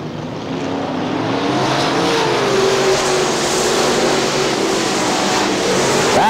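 Super late model race cars roar back up to speed at Crystal Motor Speedway in Michigan after a caution, a loud, sustained engine drone from the field that swells and holds steady for several seconds.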